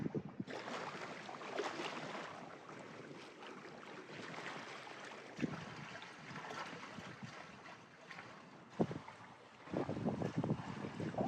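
Wind gusts buffet the microphone on a sailboat moving at about five knots near islands, sails down, heading in to anchor; faint, uneven rushing with occasional louder thumps of wind noise and water.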